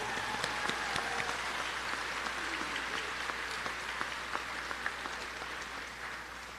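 Steady applause from a crowd at a nursing graduation pinning ceremony fills the whole stretch, a dense wash of clapping with a few sharper individual claps standing out, no voices on top.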